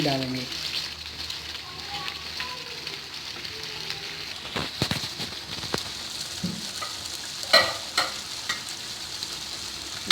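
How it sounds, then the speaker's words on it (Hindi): Onions for kabab fry and sizzle in a karahi with a steady crackle and occasional stirring scrapes, while a voice speaks briefly over the cooking. "प्याज हमने डाल दिया है, इसको हम थोड़ा सा भून के"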